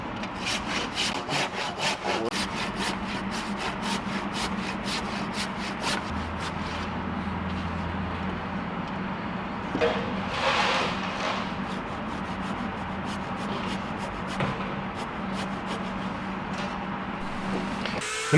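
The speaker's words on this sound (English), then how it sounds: "The Makita Power Planer makes short work of the shaping process." A Makita power planer shaves and shapes heavy timber for a wooden boat rebuild, a continuous loud, rasping whir of cutting that runs steadily throughout, with a brief surge of higher hiss midway.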